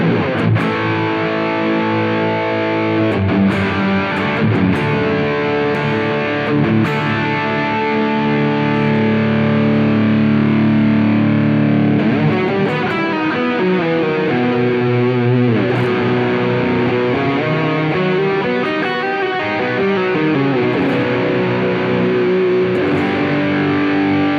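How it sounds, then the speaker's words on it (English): Overdriven electric guitar through a Sir Riot drive pedal on a Fractal VP4 rings out in sustained, distorted chords and melodic lines, with delay repeats trailing behind each phrase, loud and continuous. "I'm using that Sir Riot as my drive pedal"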